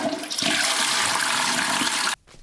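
A toilet flushes with a loud, close rush of water that runs for about two seconds and then cuts off abruptly, leaving faint residual trickling.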